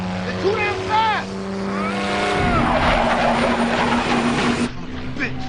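A WWII fighter plane engine roars at full throttle in an aerial pursuit scene, a loud sustained drone with a rising burst of engine and wind noise, over shouted speech and film score.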